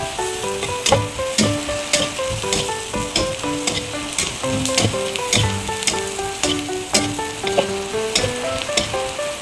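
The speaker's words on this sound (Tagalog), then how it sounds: "Sinabay ko na po yung onion and garlic." Onion and garlic sauté in a pan, a lively close sizzle broken by repeated clinks and scrapes of stirring.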